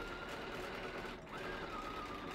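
A sewing machine stitches a monkey wrench quilt block in a fast steady whir of needle strokes. It pauses very briefly partway through and then runs on at the same pitch, with no one talking over it.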